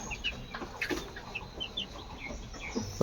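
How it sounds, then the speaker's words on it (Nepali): Small local chicks and hens in a poultry farm shed, with repeated short chirps and soft clucks scattered throughout, close by and fairly steady over a low background hum, no talking. "यहाँ चाहिँ झन् सानसानो छ यो लोकल कुखुरा चल्ला"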